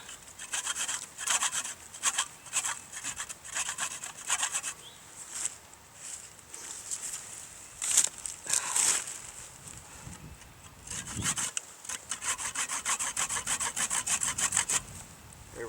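A handsaw cuts through wood held steady against a knee, rasping in quick repeated strokes, close and fairly loud, with short pauses between bursts of sawing and no talk.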